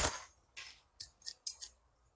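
Metal scissors are handled alongside a small pouch and a box of pens: a rustle, then several crisp snipping clicks in quick succession, close and alone in quiet surroundings.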